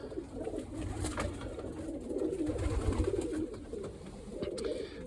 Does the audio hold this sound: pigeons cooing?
yes